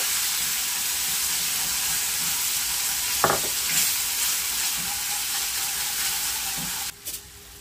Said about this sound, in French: Ensuite, je verse un peu d'eau. Je mélange.